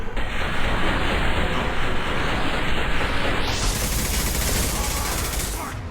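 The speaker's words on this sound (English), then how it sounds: "Taking heavy fire!" Heavy, sustained gunfire in Mass Effect 2 combat, a dense, loud, continuous roar of shots that stays unbroken throughout and eases off slightly at the end.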